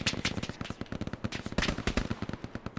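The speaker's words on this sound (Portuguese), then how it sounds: "Tem tiro aqui perto, tem tiro aqui perto" Rapid close gunfire in the World War II shooter Hell Let Loose, a continuous rattle of sharp shots in quick uneven bursts, loud and alone.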